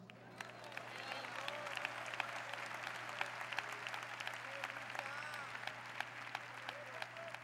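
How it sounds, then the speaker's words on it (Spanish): At a church congress in Panama, a congregation claps together in a continuous, fairly quiet patter of many hands, with a low steady hum and faint murmuring voices underneath. "¿Cuántos pueden dar palmas al Señor?"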